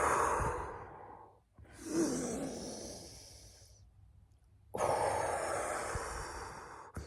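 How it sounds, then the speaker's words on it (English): A person in yoga cobra pose takes long, loud, close breaths: a deep inhale, a short held pause, then a slow audible exhale, with no speech. "Breathe in with that, hold, and exhale down."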